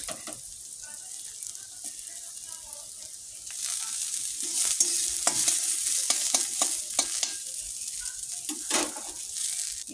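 Onions and crumbled fried dough frying in a pan while a utensil stirs them: a steady close sizzle that grows louder midway, broken by repeated scraping strokes against the pan, with no talking.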